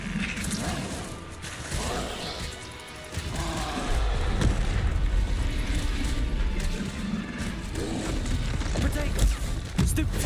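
Spell blasts in Hogwarts Legacy, Bombarda among them, as dense rumbling explosions and crashing impacts that swell and stay loud, mixed with shouted spell incantations and combat effects.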